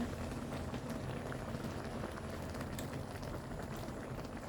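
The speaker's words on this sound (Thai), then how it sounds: "แล้วก็เคี่ยวให้นัวให้เครื่องนัวเข้ากระดูกเนื้อหมูเราเนาะ" Pork bone broth with Thai herbs and coconut milk simmers in a pot for choo chee, giving a steady, even bubbling that runs without a break and without any talk.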